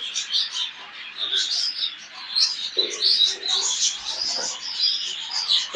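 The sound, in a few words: show jumbo budgerigars and chicks chirping in nest box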